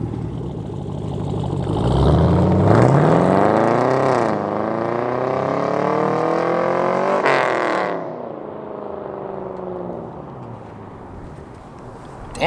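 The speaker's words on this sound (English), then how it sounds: "Setting off in the Camaro SS" A Chevrolet Camaro SS with about 100,000 miles sets off, its engine revving up in a rising, loud, close roar that climbs through gear changes and then settles to a lower steady drone.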